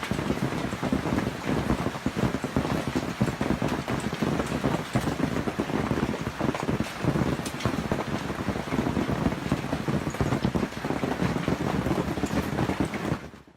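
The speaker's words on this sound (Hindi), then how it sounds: "उन पर करीब 2 इंच बड़े पत्थर टपकने लगे।" Golf-ball-sized hailstones about two inches across pound down during a storm in Canberra, Australia, a dense, continuous rattling drumming of impacts mixed with wind noise, loud and close throughout.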